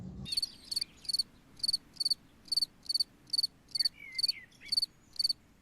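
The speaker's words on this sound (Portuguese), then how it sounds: "iremos tratar da comunicação acústica de grilos do Mediterrâneo" Mediterranean crickets chirping in a quiet setting: a regular series of about a dozen short, shrill, high-pitched pulsed chirps, evenly spaced and close, standing alone against a faint low background.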